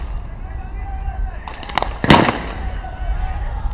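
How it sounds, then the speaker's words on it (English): Sniper rifle shots ring out at the UAE SWAT Challenge, two sharp distant cracks close together over steady background noise and commentary. "3 from 3 so far for the Renia B sniper of Albania."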